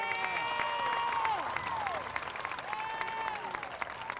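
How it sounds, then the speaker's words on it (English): A crowd at a high school football game applauds and cheers, steady clapping under rising whoops and shouts, moderately loud and close throughout. "How about a big cheer for Seth Branham?"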